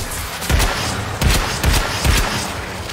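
Gunfire from an artillery bomber in the game Warframe: four loud, heavy bursts of fire spaced about half a second apart, each with a booming low thud.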